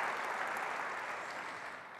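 Audience applause at an evening lecture, a steady dense wash of many hands clapping at once, holding evenly for two seconds before easing off slightly at the end.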